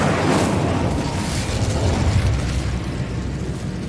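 Casting the Incendio fire spell in Hogwarts Legacy bursts into a loud, dense roaring whoosh of flame that holds steady for a few seconds.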